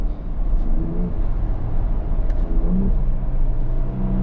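A Ford Bronco Raptor's engine pulls in a steady, loud low rumble under acceleration, with the drone rising and falling slightly across a few seconds of continuous driving and no voices over it.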